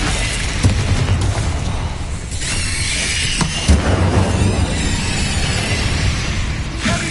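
Incendio fire spell cast in Hogwarts Legacy, loud bursting booms and whooshing blasts in quick succession with crackling bursts between them, close and forceful throughout.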